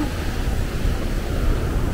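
Strong ocean waves at a sandy beach with clear water roll in a continuous, broad rushing wash, near and steady, with wind buffeting mixed in and no talking.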